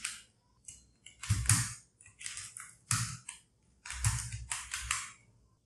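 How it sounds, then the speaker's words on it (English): Typing on a computer keyboard while writing in MS Word comes through as close, crisp bursts of rapid key clicks separated by short pauses, with no talk. "now I type something"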